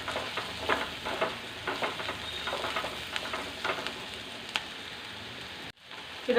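Onion masala sautés in a pan for Kerala-style mango curry, a moderate crackling sizzle with scattered pops and stirring, going briefly quiet near the end.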